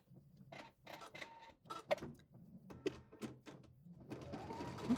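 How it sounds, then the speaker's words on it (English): Home embroidery machine satin stitches the edge of an in-the-hoop gift card holder, a quiet rapid mechanical chatter with rhythmic taps and small clicks, steady and close, slightly busier toward the end. "it's our last step is to do the satin stitching around the edge"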